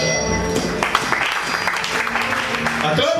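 A crowd at a prophet's religious gathering claps loudly and continuously, dense applause over echoing hall sound with voices mixed in.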